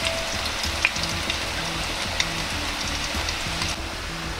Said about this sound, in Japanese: 鍋に揚げ油を小さじ1くらい残しておき、生姜を炒めます。